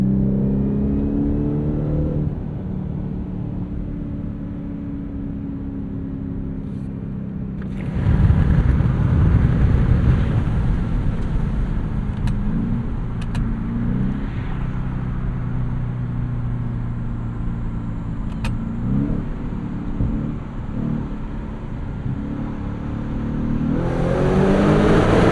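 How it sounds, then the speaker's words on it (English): A 2024 Ford F-150 Raptor R with a 720 hp V8 crosses a small bridge on a morning commute, the exhaust swelling into a loud, rumbling roar under acceleration, then settling back to a steady drone. "Might be able to get a sneak peek of what this exhaust sounds like."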